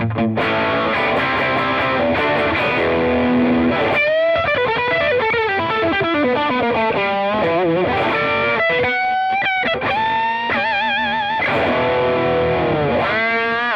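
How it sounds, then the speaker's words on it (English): Heavily overdriven electric guitar, a Vola Oz superstrat on its bridge humbucker through stacked overdrive pedals, thick and saturated, playing sustained chords and bending lead lines with no pauses, loud and alone. "So it works great for some fat high gain tones as well."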